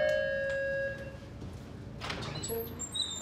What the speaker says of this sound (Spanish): Timbre.